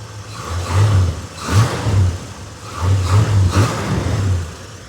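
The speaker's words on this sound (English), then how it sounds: "Engine sounds nice and tight." A 327 small block V8 in a restored 1964 Chevrolet Chevelle Malibu SS revs up several times in short bursts, rising and falling close by, with no talking.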